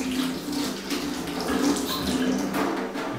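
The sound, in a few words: pouring bleach into a glass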